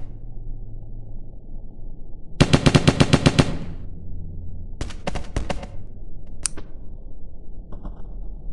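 Gunfire in a zombie video game: a loud, fast burst of automatic shots, a pause, then a second shorter rapid burst followed by a few isolated cracks, with no talking.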